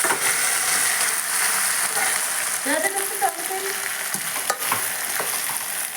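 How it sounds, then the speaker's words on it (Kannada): Boiled legumes tipped into hot oil in a pan and stirred, a steady bright sizzle throughout with scraping stir strokes and a few clinks partway, close and fairly loud. "ಈಗ ಕಾಳು ಕುದಿಸಿಟ್ಕೊಂಡಿದ್ವಲ್ಲ ನಾವು ಅವನ್ನ ಹಾಕ್ಬೇಕು"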